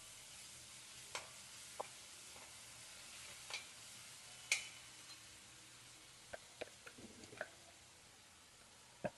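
Masala fries in hot oil in a pan with a soft, steady sizzle, broken by scattered clicks and scrapes of a spoon stirring. The sounds stay quiet and close.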